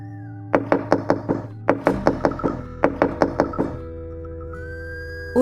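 Loud, rapid knocking on a wooden door in an animated horror story, struck in several quick bursts of about four to five blows each, close and forceful, with no talking over it.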